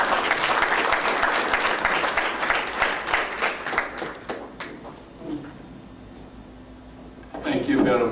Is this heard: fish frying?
no